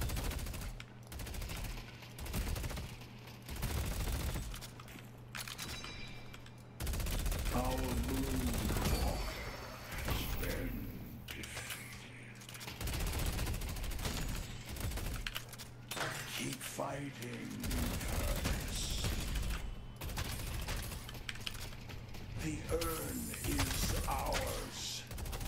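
Tesla bullets crackle and rattle as repeated gunfire in the MOBA shooter Deadlock, with dense bursts running throughout beneath a voice talking over the action.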